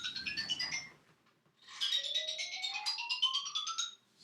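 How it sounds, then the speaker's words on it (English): A phone rings with an unusual warbling electronic ringtone, two bursts of rising chirpy tones separated by a short pause, fairly clear and alone. "Never heard the phone ring like that."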